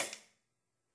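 A single shot from a VFC custom M4 airsoft rifle on semi-auto: one sharp, near snap that decays quickly into silence, with no talk.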